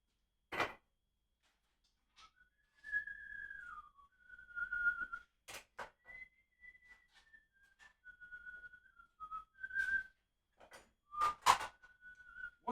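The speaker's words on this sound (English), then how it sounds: "What song am I whistling" A person whistles a wandering, made-up tune in short sustained phrases, close and clear, broken by sharp clicks and knocks of handling in a quiet room, with no talking.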